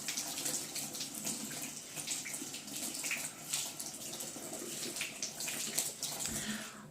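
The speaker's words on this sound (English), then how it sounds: "And I'm going to wash my hands." Running tap water splashes over hands being washed at a kitchen sink after mixing sourdough dough, a steady close hiss of flowing water with faint rubbing and splashing.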